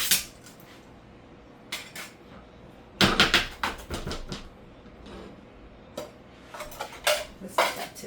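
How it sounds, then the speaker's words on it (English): A knife chops ham into small cubes on a cutting board, giving bursts of sharp, close knocks against the board separated by short pauses, with quiet gaps between groups of cuts. "I'll take my ham and I'll cut it up."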